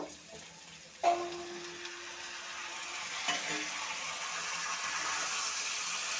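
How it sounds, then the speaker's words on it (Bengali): Okra and potatoes fry in a pan with a steady hiss that surges sharply when the okra hits the hot oil, followed by clinks of stirring as the sizzle continues. "ঢেঁড়স আলু একসাথে একটু ভাজা ভাজা করে নেব"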